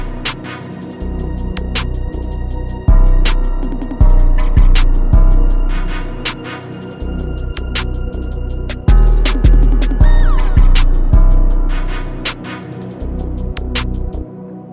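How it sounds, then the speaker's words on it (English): A heavy 808 bass in a dark, aggressive trap beat thumps in repeated booming hits with decaying tails, under fast hi-hats and layered melodic loops, loud and dense. "So then we got the 808 that just hits like on the 1st bar"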